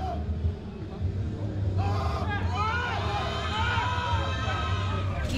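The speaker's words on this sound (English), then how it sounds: "Got quite a bit of people here cheering David on." Spectators at a USPA American Cup 2018 powerlifting bench press event cheer and shout encouragement to a lifter, a lively crowd of overlapping raised voices and whoops building and sustained across the moment.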